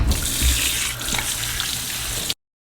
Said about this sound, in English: you're going to want to run it under cold water, which is even going to be colder